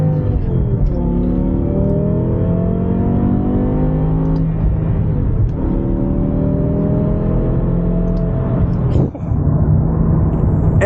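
A BMW E60 M5 with its V10 engine drives under load, a loud sustained engine note rising through two long pulls, with a brief dip near the end as it shifts.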